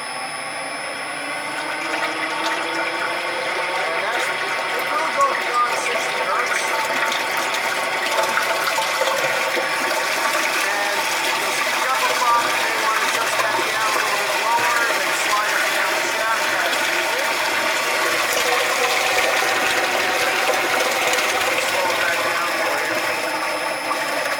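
An APV jacketed mixing tank agitator runs continuously, giving a steady churning, sloshing liquid sound with a mechanical hum that rises slightly as the speed is turned up.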